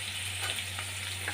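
Beans, carrots and peas fry in hot oil with onions for fried rice, a steady close sizzle with soft stirring scrapes over a constant low hum.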